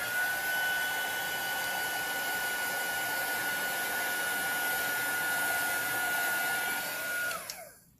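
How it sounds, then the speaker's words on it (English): A heat gun blows steadily to dry alcohol ink artwork, a loud continuous airy roar with a high whine that holds for about seven seconds, then cuts off and winds down with a falling pitch. "I'm going to dry this off real quick with the heat gun."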